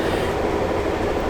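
Steady low rumble and hum fill the inside of a moving Amtrak Lake Shore Limited rail car, a continuous dense roar with no voices and no clear breaks.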